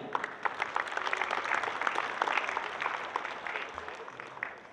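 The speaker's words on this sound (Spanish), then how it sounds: "Fuerte el aplauso para ella." An audience claps for a congresswoman at the opening ceremony of a dairy expo, dense steady applause from a crowd that gradually thins toward the end.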